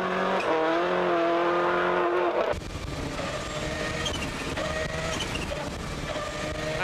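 Rally car with a slipping clutch on an Irish rally stage. The engine is loud and close, with a rising rev tone that shifts into rougher, broadband engine and road noise. It runs continuously, with no speech.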